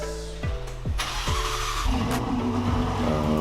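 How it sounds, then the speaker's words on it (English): Race car engines rev and roar with repeated rising pitch sweeps, several quick throttle blips followed by a sustained higher whine, loud and close without talk. "Racers, start your engines."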